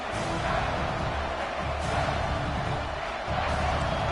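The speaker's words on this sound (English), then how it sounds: "the crowd really making some noise now" A large stadium crowd at a UGA vs Texas A&M football game roars in a dense, continuous wash of noise, loud and sustained with slight swells, heard from within the stands.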